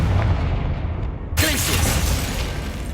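In the Hogwarts Legacy video game, the Confringo fire spell bursts with a sudden loud whooshing blast partway through, followed by a crackling rushing tail over a low rumble, with a voice audible just before.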